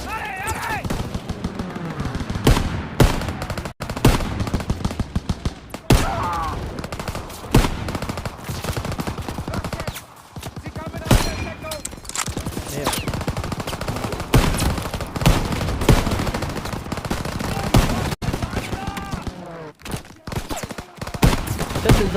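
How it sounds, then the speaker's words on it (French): Rapid bursts of machine gun fire and scattered gunshots from a World War II shooter, Call of Duty WW2, loud and dense, with sharp cracks and brief lulls over a sustained battle din, and someone speaking French now and then. "Mitrailleuse dans la grange!"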